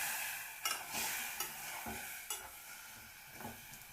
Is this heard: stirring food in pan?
yes